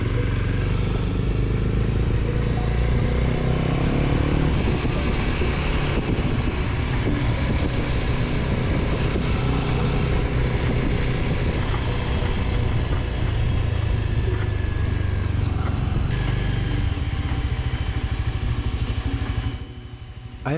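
A motorcycle with a damaged rear wheel ridden on a road in Croatia, a continuous loud engine drone with rumble and clattering, dropping off abruptly at the end, no voices.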